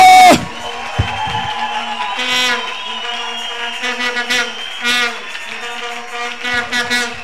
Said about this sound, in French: Tolobi 3 minutes d'acclamation, 3 minutes d'acclamation